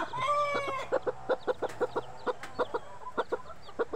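Chickens on a farm clucking in a quick, steady series of short calls, with a brief cheeping of chicks at the start, close by and fairly loud.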